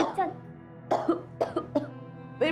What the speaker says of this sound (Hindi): पुरानी खांसी है, 5 मिनट में चली जाएगी